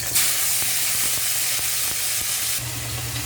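Pork hits a hot pan for Filipino ginisang monggo, giving a loud, steady, close sizzle and frying hiss that runs the whole time with no talking.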